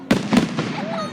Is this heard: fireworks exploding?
yes